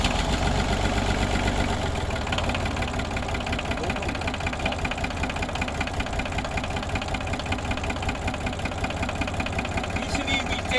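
A tractor engine idles steadily, a continuous low mechanical rumble with a faint knocking texture running loud and unbroken throughout, close by.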